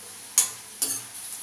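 Vegetables and oregano stirred in a cooking pan, heard as two short scraping strokes of the utensil, the second a little longer, over a faint steady sizzle, close by and with no talking.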